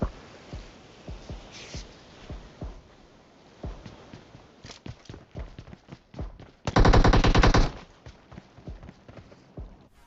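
Bursts of rapid AKM automatic rifle fire in PUBG Mobile, loud and close, with scattered single shots and footsteps before a sustained heavy volley.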